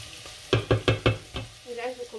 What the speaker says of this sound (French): On laisse cuire les poivrons